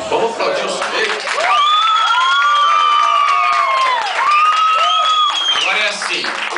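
A crowd at a rock band's live show bursts into loud, sustained cheering, whoops and clapping, with high shouted voices rising and falling over the applause.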